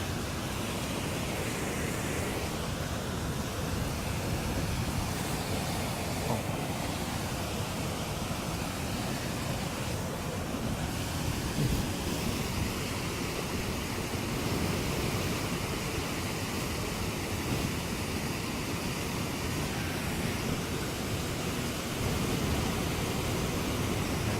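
Brooks Falls in Katmai roars as a steady, dense rush of falling water, loud and unbroken throughout with no voices over it.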